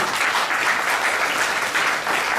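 Audience at the WebCup 2013 final clapping for the Comoros delegation, a dense steady burst of applause with no voices heard over it.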